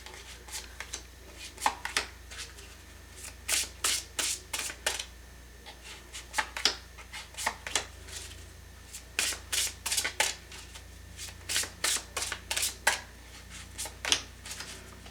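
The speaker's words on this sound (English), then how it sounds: "We're going to pick 9 of these cards, okay?" Tarot cards are shuffled close by in quick papery riffles and bursts, coming in irregular clusters with short pauses between them. No one speaks.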